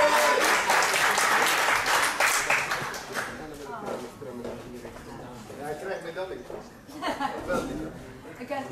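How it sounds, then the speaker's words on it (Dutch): Applause from the crowd at a kickboxing fight event in The Hague, loud clapping at first that fades into murmuring, laughter and voices talking over the room. "Maar dames en heren, ook een enorm applaus voor Jay de Gier."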